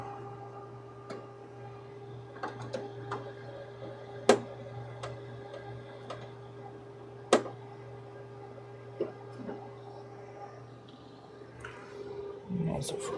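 Side screws are removed from a Chroma AC/DC source during a teardown, giving sparse faint ticks and a few sharper clicks over a steady electrical hum, with no talking.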